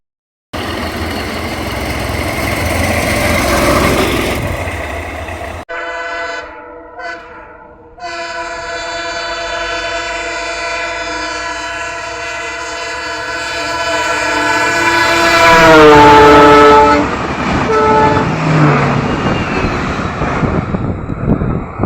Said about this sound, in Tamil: சோதனை ஓட்ட ரயில் இயக்கப்பட்டதால்